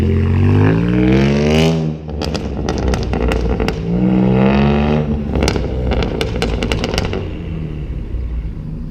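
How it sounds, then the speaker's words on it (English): A BMW E90 335i with a catless downpipe revs hard and roars past up close, with rising and falling harmonic sweeps, sharp crackles and pops from the exhaust, and a second pass. "I'm gonna do a couple of drive-bys and rev so you can hear it"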